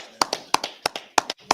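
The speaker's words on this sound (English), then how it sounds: "Clap it up." A short burst of hand claps from a small group, about eight sharp, close claps in an uneven rhythm over a second and a half, with nothing else sounding.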